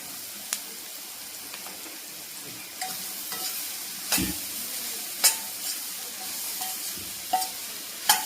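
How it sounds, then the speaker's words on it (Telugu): Chopped ridge gourd pieces sizzle and fry in a hot pan while being stirred, with scattered scraping clinks of the spoon against the pan over a steady crackling hiss. "ఇప్పుడైతే దీంట్లో మనం కట్ చేసి పెట్టుకున్న బీరకాయ ముక్కలు అయితే యాడ్ చేస్తున్నానండి"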